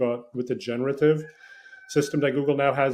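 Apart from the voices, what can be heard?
rooster crowing in the background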